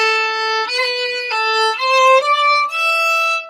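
Fiddle playing the first bar of a tune slowly with an ornament, a few bowed notes stepping between pitches with a quick grace note, close, bright and alone with no talk over it.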